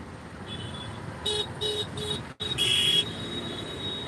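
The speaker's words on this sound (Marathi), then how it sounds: "ब्रिजच्या वरती ट्रॅफिकच ट्रॅफिक आहे दोन्ही साईडने ट्रॅफिक" Heavy road traffic on a bridge in Mumbai: a continuous roadway rumble with several short car horn toots and one longer honk, nearby and fairly loud, with no talking.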